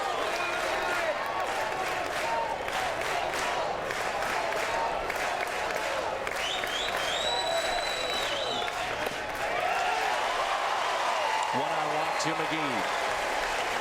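Baseball crowd at a college regional game applauding and cheering steadily throughout, with a commentator talking over the broad wash of clapping.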